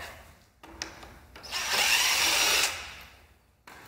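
A power drill driving bolts whirs in short bursts, then one sustained run of about a second, close and loud, with brief pauses and no talking, while installing LED accent lights on a 2017 Kawasaki Z650 motorcycle.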